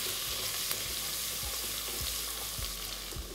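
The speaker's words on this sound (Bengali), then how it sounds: "আমি এখানে দিয়ে দিচ্ছি 2 চা চামচ রসুন কুচি, তারপর একবার এটাকে ভালো করে ভেজে নিচ্ছি।" Chopped garlic, two teaspoons' worth, fries in hot oil in a pan with a dense, steady sizzle and faint crackles and stirring scrapes, close up.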